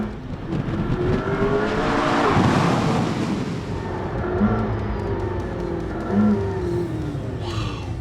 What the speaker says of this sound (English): Was that all downshifting that I heard?